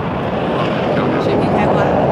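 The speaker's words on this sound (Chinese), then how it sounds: "正面五架飞机飞过来了" Five aerobatic jets of the Bayi aerobatic team sweep past together at the Zhuhai Airshow, a loud, steady broadband roar with wind rush that holds level through the whole moment, with no speech.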